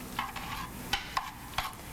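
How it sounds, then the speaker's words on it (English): Cream being stirred into a potato casserole mixture of cheese and cream, giving a few soft, wet scraping strokes close by with brief sharp accents, alone without talk. "go ahead and stir that in"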